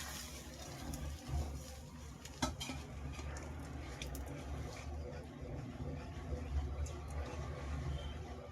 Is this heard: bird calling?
no